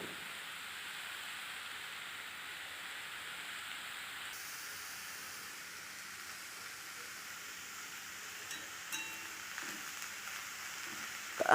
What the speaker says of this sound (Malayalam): ഇരുമ്പ് ചട്ടിയിൽ വെക്കുകയാണ്.